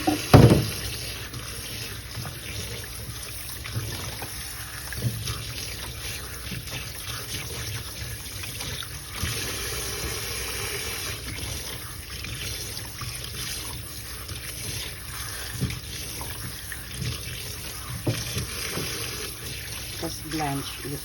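Tap water runs steadily into a sink to cool blanched okra, a constant hissing trickle throughout with a clatter at the start and some talk over it.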